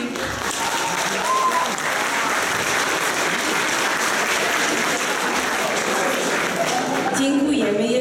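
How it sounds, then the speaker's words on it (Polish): A large audience applauds at a charity concert, with steady, dense clapping that fills the whole stretch; a voice briefly comes through near the end. "Jeszcze raz wielkie brawa dla tych wszystkich zaangażowanych."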